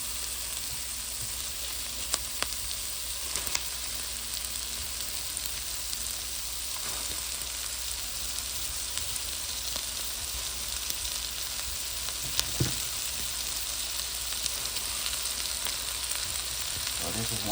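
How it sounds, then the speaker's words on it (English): Cabbage for a Cajun smothered fried cabbage fries in a pan with a steady, close sizzle throughout, joined by a few brief clanks and stirring sounds. "now we'll go ahead and add our cabbage"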